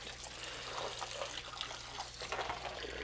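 Water rinses through a XERO Pure reverse osmosis system being flushed of packaging foam residue, a continuous soft trickling and splashing flow, faint but steady and close, with no voices.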